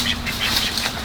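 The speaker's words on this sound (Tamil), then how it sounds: "பாருங்க, முன்னாடி தான் இருக்கு வாத்து" A duck on a farm in Coimbatore flaps its wings in a short burst of soft, rapid fluttering beats, close by and fairly steady throughout.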